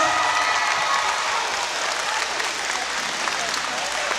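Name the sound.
audience applause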